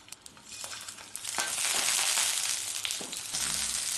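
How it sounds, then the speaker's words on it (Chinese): Sausages fry in a little oil in a pan, giving a bright crackling sizzle that swells after the first second and stays fairly loud, with a few sharper pops and scrapes and no talking. "咱煎两个肠子，带点油。"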